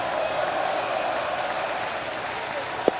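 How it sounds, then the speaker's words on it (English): Steady crowd roar fills a regular-season baseball stadium during game 155 after a Beltre throw, a broad sustained wash of cheering with a brief sharp spike near the end. "Now the crowd's woken up."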